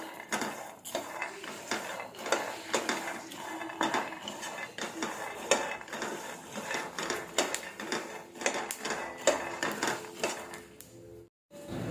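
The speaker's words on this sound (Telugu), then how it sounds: "నేను ఇక్కడ 2 కప్స్ పల్లీలు తీసుకున్నాను. ప్యాన్లో యాడ్ చేసుకున్నాను." Two cups of peanuts stirred in a pan on the stove, a dense run of dry clattering and scraping as the nuts and spoon knock against the metal, steady and close with no talk.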